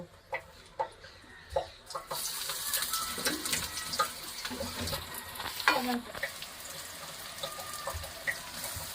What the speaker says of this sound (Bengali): প্রথমে আমি এই গাজরগুলো ভেজে নিচ্ছি